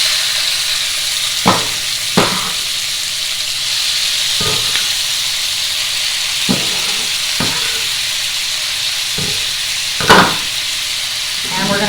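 Pork sizzles steadily in a preheated pan on the stove for chili colorado, a loud, constant frying hiss broken by occasional short clanks and scrapes.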